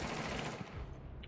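Muffled gunfire through a wall in a tactical shooter video game, a quick burst of dull repeated shots, fairly faint and blending into a constant noisy background.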